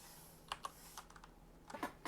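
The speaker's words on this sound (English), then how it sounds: "I hit my face to the keyboard" A face mashed onto a computer keyboard sets off a scattered burst of key clicks, several uneven taps clustered near the start and end, close and fairly faint against a quiet room.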